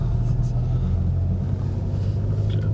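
A Volkswagen Golf 7 GTI pulls away from a parking lot, heard from inside the cabin as a steady low engine and road rumble. Voices are faintly present under it.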